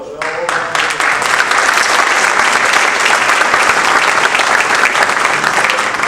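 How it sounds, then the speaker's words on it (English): A crowd at a community awards event honoring members of Congress claps in sustained, dense applause, loud and even throughout, following a short burst of speech at the very start. "take a round of applause"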